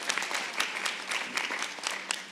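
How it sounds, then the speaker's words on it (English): A crowd at a 2026 California gubernatorial candidates forum gives a short round of applause. Scattered and fairly faint clapping, heard from a distance, pulses for a couple of seconds without talk. "Big round of applause for Maria."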